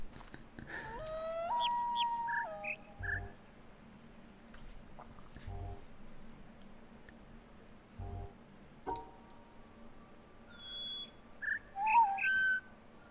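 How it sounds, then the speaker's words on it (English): Several birds in a puzzle video game whistle in short, tuned phrases, overlapping and trading calls among scattered soft thumps and quiet stretches, no talking. "There's like 3 birds talking over each other."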